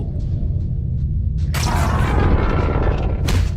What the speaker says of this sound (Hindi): धमाके के शोर से तीनों जाग गए हैं।